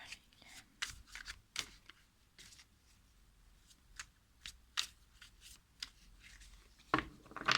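Tarot cards being shuffled and drawn by hand, close by, with soft riffling swishes, taps and slides coming in irregular bursts amid quiet pauses.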